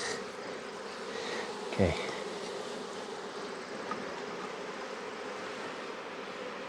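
Honey bees hum in a dense, continuous buzz around an open hive during an October mite wash, close and steady throughout, with one brief spoken word from a beekeeper.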